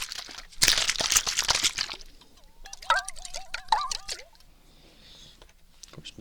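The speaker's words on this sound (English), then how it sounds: "More traditional water sounds." Water sounds made with ASMR props: a dense, bright splashing and pouring burst up front, then quieter trickles and small squeaky chirps, close and intimate with no voices.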